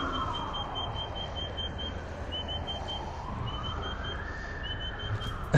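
A bird mimicking a fire truck siren, its whistled call rising and falling like a wailing siren, steady and sustained over a broad outdoor noise background near power pylons in Newington, Sydney, Australia.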